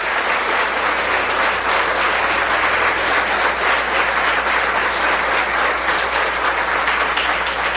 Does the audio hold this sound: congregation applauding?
yes